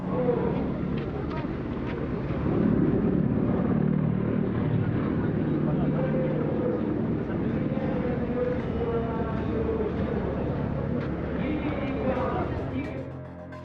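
Russian Air Force Mi-28 attack helicopters fly a display at a 2012 airshow, a steady, loud engine and rotor roar that holds for the whole stretch before easing slightly at the end, with a crowd murmuring underneath.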